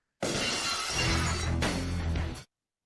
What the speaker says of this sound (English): if you call out glass break, you'll hear this amazing sound effect